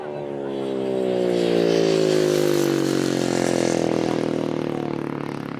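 250cc solo grasstrack racing motorcycles pass by, the engine drone rising as they approach and holding a steady, fairly close whine before easing slightly as they move off.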